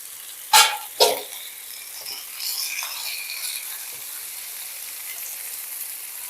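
Eggplant pieces drop into a pan of frying spinach with two sharp splashes, then settle into a softer, steady sizzle with light stirring.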